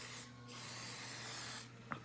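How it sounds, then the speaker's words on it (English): A liquid makeup base is sprayed onto a kabuki brush, a single soft, steady hiss of about a second, close up and quiet, followed by a faint tap. "So I am just super careful and spray"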